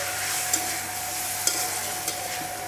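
Squid being stir-fried in black squid ink sauce, a constant close sizzle with a few soft clacks and scrapes from the stirring utensil, no voices.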